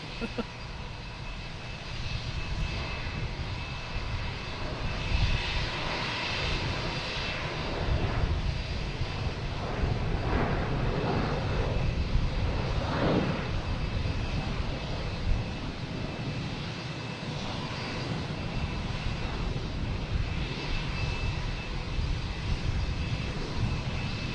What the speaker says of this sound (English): we'll stick with the Cessna, see if we can see anything besides lights